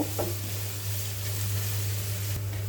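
Sliced onions frying in hot oil in a pan for a chicken curry, a steady close sizzle with a soft stirring scrape near the start and again near the end.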